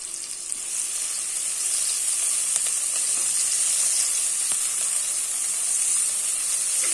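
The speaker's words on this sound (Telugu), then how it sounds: "ఇది గోల్డెన్ బ్రౌన్ కలర్ వచ్చేంత వరకు మనము ఫ్రై చేసుకోవాలండి ఉల్లిపాయలన్నిటిని కూడా." Onions frying in a pan toward golden brown for a chicken curry, a steady close sizzle with a bright continuous hiss and faint crackles throughout.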